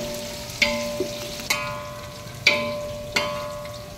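Onions fry in a large pot for mixed vegetable khichdi, giving off a steady, moderate sizzle. A metal spoon knocks against the pot every second or so as the onions are stirred.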